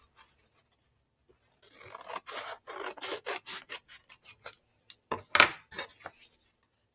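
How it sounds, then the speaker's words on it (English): Scissors snip a folded sheet of paper close up, about a dozen quick, crisp cuts in an uneven rhythm after a short quiet start, alone with no talk. "you're going to take your scissors and you're going to cut this bottom part off."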